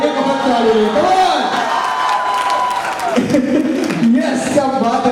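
A wedding crowd claps and cheers loudly and continuously, with whoops and shouting voices mixed into the steady applause.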